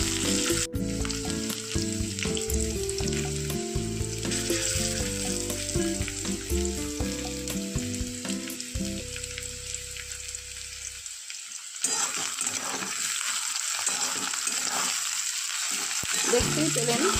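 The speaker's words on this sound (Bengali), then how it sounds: "দেখতেই পেলেন সবজিগুলো একটু 2 মিনিট ভাজা করে নিয়ে তারপরে কিন্তু আমি দিলাম নুনটা।" Vegetables fry in a wok with a loud, steady sizzle, a musical background fades out partway, and the crackle and occasional stirring carry on alone up close.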